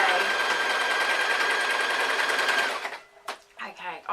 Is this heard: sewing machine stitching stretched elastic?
yes